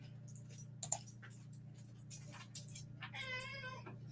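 A nearby cat lets out a drawn-out, wavering meow near the end, over a steady low hum and a few light clicks.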